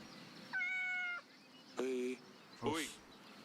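A cat in the video game Kingdom Come meows three times as it is petted, with short, clear, close calls separated by brief pauses.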